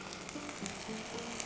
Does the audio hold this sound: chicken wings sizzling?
yes